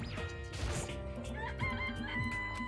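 Game-audio chicken clucks and crows in a cartoonish series of squawks over a busy background of music and effects from Danganronpa, fairly quiet overall.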